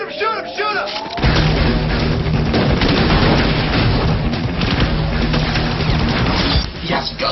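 Gunfire in a dystopian action film scene: loud continuous bursts of shots and crashing impacts fill the scene after a brief opening moment, dense and close, with shouting voices mixed in.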